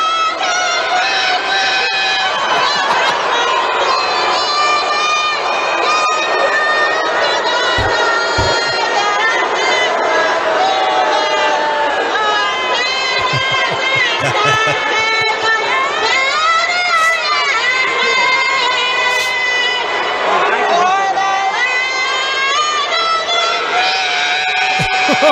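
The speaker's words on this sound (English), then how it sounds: "listen to the crowd." A large crowd at a baseball game roars and jeers nonstop, dense and loud, with shouts and whistles rising from the mass of voices and no clear speech.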